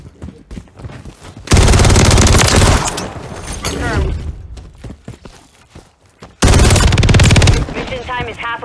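Two loud, sustained bursts of rapid automatic gunfire in Call of Duty Modern Warfare 3, each lasting about a second, separated by quieter game noise and voices talking.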